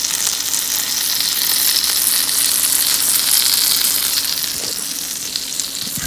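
Fish fries in hot oil with a loud, close, continuous crackling sizzle that holds steady throughout, a few faint knocks underneath.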